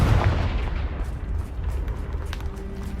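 The Confringo blasting spell in the Hogwarts Legacy game strikes with a deep, booming blast right at the start, then fades into a low rumbling tail.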